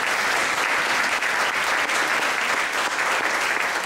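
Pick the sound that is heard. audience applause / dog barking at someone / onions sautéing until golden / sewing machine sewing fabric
audience applause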